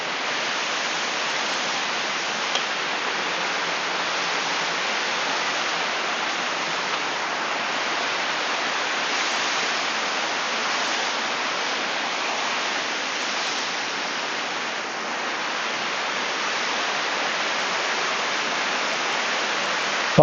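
Tat Yai waterfall in Phetchabun, running high with heavy flow, roars as a steady, loud broadband rush of falling water that holds constant throughout without any voices.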